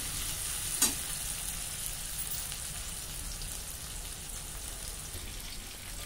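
Onions fry in a pan, browning as they are stirred, giving a steady, soft, even sizzle with one brief clink of the utensil near the start and no talking.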